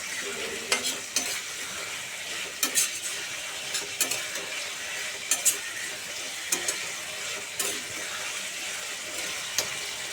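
Ginger and spices frying in oil for a banana flower curry, a bright steady sizzle broken by occasional spoon scrapes and clinks on the pan, close up with no talking.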